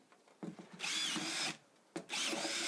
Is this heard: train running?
no